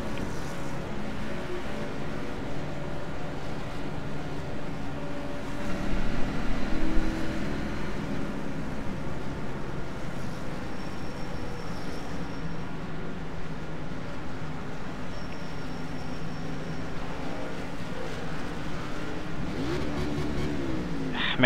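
A Ford Mustang race car in the iRacing video game drones along with a steady, fairly quiet engine hum that rises briefly in revs, with no one talking over it.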